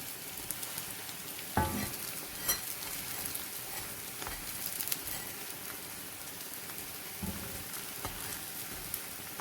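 Corn flour roti, makki ki roti, cooks in a pan over a very low flame and gives a soft, steady sizzle with a few sharper crackles and taps as it is pressed and turned. No one speaks.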